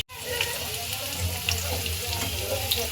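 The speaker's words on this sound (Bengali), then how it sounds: "তো এদিকে বেরেস্তাটা করে নেওয়ার পরে তো বসিয়ে দিয়েছি আলু ভাজা" Potatoes fry in a pan with whole garam masala, making a continuous close hissing sizzle with faint crackles throughout.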